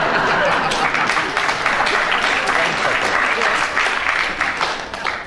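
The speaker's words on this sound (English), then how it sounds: "I think from the applause that the audience agrees with, with you" Studio audience of a comedy panel game applauds loudly and steadily, a dense wash of clapping that holds level throughout with faint chuckles mixed in.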